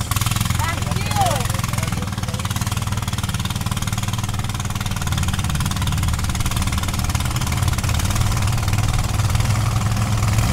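Two outboard motors run together on a boat on a river in the Amazon rainforest, a steady loud drone that continues throughout.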